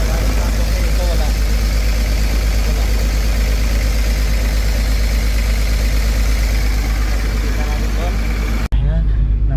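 A Komatsu PC220-8 excavator diesel engine idles roughly with a misfire from a dead number 6 injector, giving a loud, steady low rumble with uneven pulsing that cuts off sharply near the end.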